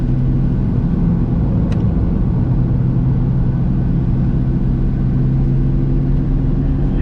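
A BMW M4 drives on a race track, a loud, steady engine drone and road rumble heard from inside the car, with little change in pitch throughout.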